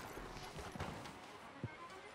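Horse hooves clip-clopping in Red Dead Redemption 2, a few soft, irregular thuds under faint ambient game noise, with low talk in the background.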